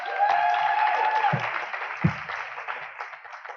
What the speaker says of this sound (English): Next up, a round of applause, please, for DMG Events, Joshua Green.